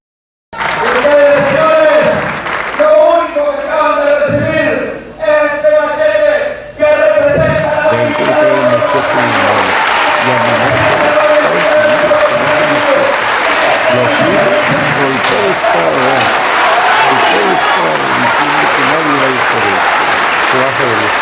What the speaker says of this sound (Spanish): Toda la bola de paleros le aplauden y lo saludan como si fuera el gran héroe nacional